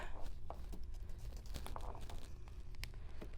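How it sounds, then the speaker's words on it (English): Quiet crinkling and tearing as a backing layer is peeled off tape, in short scratchy bursts, close by. "make sure it's stuck, and you're just going to peel off the top"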